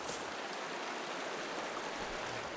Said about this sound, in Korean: 어, 이거 물소리가 나는데요?